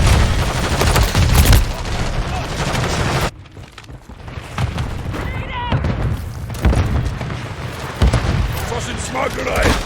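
Explosions and gunfire from Modern Warfare 3 War Mode, including a Semtex grenade blast, with loud bursts and rattling shots throughout, a sharp boom near the start and more booms and firing mixed with in-game voice callouts.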